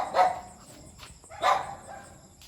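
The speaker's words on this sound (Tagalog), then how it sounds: "napapalibutan kami ng maraming aso kaya dapat tahimik lang kami" Dogs in a video game bark twice, about a second apart, moderately close against a quiet background.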